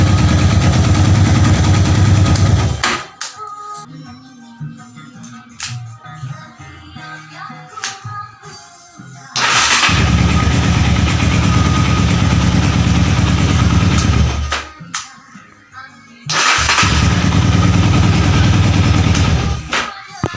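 An old Honda Tiger trail motorcycle engine, which coughs at high rpm, runs loudly and steadily, drops away for several seconds twice, then starts up again at full volume.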